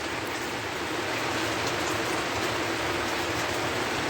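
Heavy rain pours outside a home kitchen, a steady, even hiss of drops on surfaces that continues throughout with no voices.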